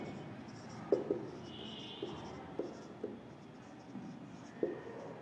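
Pen or chalk writing out an English grammar rule in a classroom, faint scratchy strokes with a few soft taps spaced irregularly over a quiet room background.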